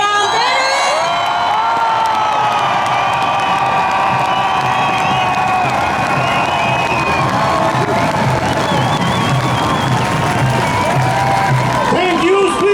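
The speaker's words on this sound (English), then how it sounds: "I need you to give him an even warmer applause to Cristian Terheș!" A crowd at an outdoor freedom rally in Stockholm claps, cheers and whoops loudly and continuously, with shouting voices mixed in and an amplified voice talking over the noise.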